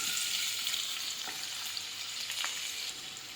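Garlic sizzles in hot oil as the base for a chicken dish, a bright continuous frying hiss with a couple of sharp crackles and light stirring, close and with no talk.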